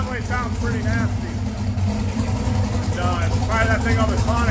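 A 427 cubic inch LSX V8 with a 4.5L Whipple supercharger idles with a low, steady, loping rumble, close by, while a voice talks over it in two short bursts.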